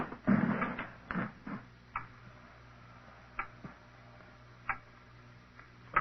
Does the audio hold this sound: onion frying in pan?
no